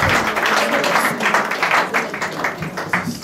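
A church congregation at a wedding claps in a dense, continuous burst of applause, moderately loud and close, with some faint voices mixed in.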